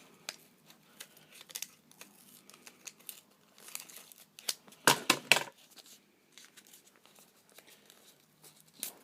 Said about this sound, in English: rip apart where you've cut